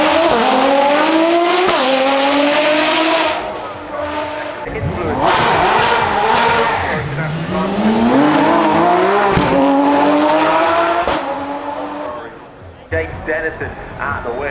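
A Ferrari supercar, entry 624, powers up a hillclimb course, its engine note climbing through repeated gear changes in loud rising sweeps before dropping away near the end.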